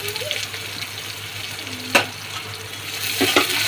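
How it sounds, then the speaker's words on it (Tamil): Onions sauté in hot oil with fenugreek, cumin, dried chillies and mustard seeds for a brinjal and carrot sambar: a steady close sizzle runs throughout, broken by a couple of sharper clinks from stirring. "வெங்காயம் போட்டு வதக்கிக்கணும்."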